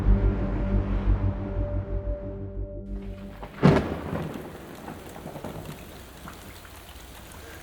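Heavy rain pours down in Panama at the start of the rainy season, with a sharp, loud thunderclap cracking midway, then a steady hiss of rainfall continuing after.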